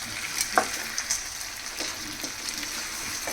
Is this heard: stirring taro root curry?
yes